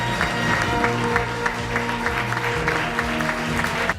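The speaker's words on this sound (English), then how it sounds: "we all have a chance, I have a chance, to applaud Michael" An audience at an evening film event applauds an actor, a dense, continuous round of clapping with music playing beneath it throughout.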